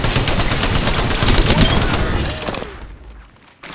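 Rapid automatic gunfire in the shooter game Ballistic, a dense, loud burst of repeated shots that rattles on for about two and a half seconds, then cuts off and trails into quieter game ambience.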